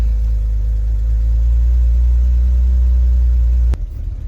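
A BMW E46 engine, just repaired for a vacuum leak, idles with a steady, loud low rumble, running smoothly and evenly before cutting off abruptly near the end.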